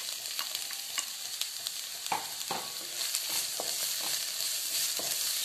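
Capsicum and onion frying in a pan over a gas flame for paneer bhurji, a steady close sizzle broken by repeated scraping stirs of a spatula, with no talking.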